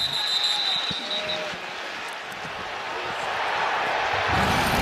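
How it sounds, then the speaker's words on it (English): A stadium crowd at a 2020 AFC Wild Card NFL playoff game keeps up a steady, loud roar, swelling slightly near the end, with a commentator talking over it. "Tom Brady in the postseason as the crowd cheers"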